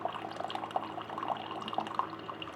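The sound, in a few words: JIMMY countertop RO water purifier dispensing hot water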